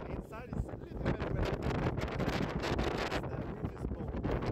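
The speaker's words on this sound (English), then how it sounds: "And it's a little bit windy. Very windy, I can say so." Strong gusty wind in Trondheim, Norway buffets the microphone in rough, uneven blasts, a loud rumbling roar that swells and dips throughout.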